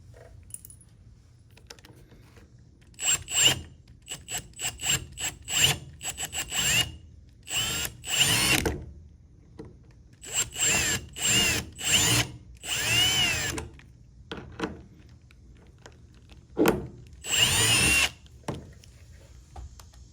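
A Milwaukee drill with an attachment bores holes for pop rivets while OEM rear splash guards go onto a 2019-2023 Chevy Silverado with the tire left on, in repeated short whining bursts separated by pauses and light metallic clinks.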